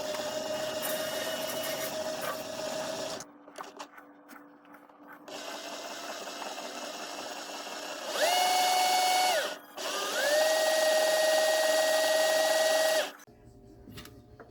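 A coil winding machine rewinds a vintage Japanese guitar pickup, its motor whirring at steady pitch in quiet bursts, with a brief higher, louder spin-up and a second longer high run before stopping.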